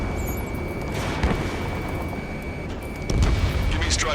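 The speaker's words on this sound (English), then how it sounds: "Gunfire and the roar of jets echoing through the streets." Video game combat scene of a city under martial law, an F-15E Strike Eagle mission, with sustained loud jet roar and rumbling explosions, a heavy thump near the end and gunfire bursts throughout.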